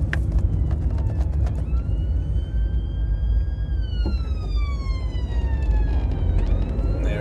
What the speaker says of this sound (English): Hello, here comes an ambulance.